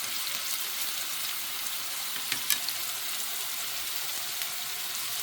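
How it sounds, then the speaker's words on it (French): Tofu frying in a pan with mushrooms and white radish, giving a steady close sizzle with a few sharper crackles partway through and no talking. "Un tofu sauté"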